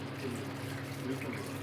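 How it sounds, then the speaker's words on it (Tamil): Water and coconut milk being poured into a pot of chicken curry with fenugreek leaves, a steady soft liquid pour running throughout at low level with faint kitchen background. "1/2 லிட்ரு தண்ணி தேங்காய் பால் ஊற்றிக்கிறேங்க"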